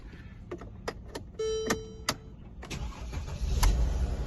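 A 2011 Mercedes E350 starts up with a short starter crank and engine catch, preceded by several sharp clicks and a brief electronic tone inside the car, then a steady idle hum continuing close by.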